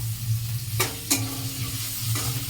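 Pointed gourd slices frying in a pan, a steady close sizzle with a few sharp scraping stirs of a spatula against the metal and a low hum from the stove beneath.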